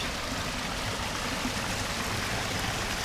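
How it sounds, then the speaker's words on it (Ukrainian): Steady, loud rush of rainwater runoff churning after a heavy downpour, continuous and close with no pauses. "Тут ще ми бачимо, як бурлять потоки дощової води."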